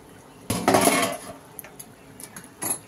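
A metal lid set onto a pot of simmering fish curry, one sharp clanking clatter followed by a few lighter clinks and a final rattle, close and clear.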